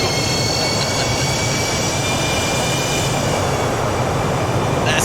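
Boeing 727 engines roaring in reverse thrust during a power pushback in the X-Plane 11 flight simulator, a loud continuous jet rumble and whine that stays steady throughout.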